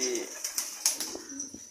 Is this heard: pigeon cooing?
yes